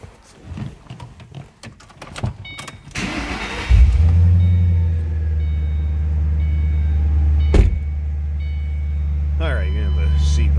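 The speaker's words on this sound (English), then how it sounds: "Very nice car. Let's go ahead and fire this up." A supercharged 2008 Ford Mustang Saleen S281 with under 11,000 miles turns over and fires, settling into a steady, loud, close idle after a few seconds of cranking, with a brief rev blip partway through.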